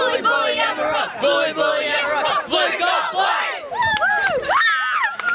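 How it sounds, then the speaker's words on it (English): A crowd of school students at a college open day shouts a house war cry together, loud and near, a sustained mass of chanting and cheering voices that breaks into scattered whoops and shrieks near the end. "let's hear the war cry for St."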